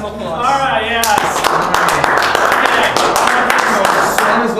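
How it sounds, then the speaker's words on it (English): Studio audience applause greeting a guest named Derek on a comedy talk show, bursting in suddenly after a moment of talk and continuing as loud, close, dense clapping with a sharp crackling texture. "Let's have some applause."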